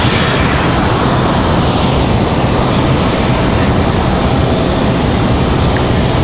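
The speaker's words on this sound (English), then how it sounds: "Here comes our CRJ" A CRJ regional jet approaches Raleigh-Durham International Airport with a loud, steady, close engine roar that fills the whole stretch without letup.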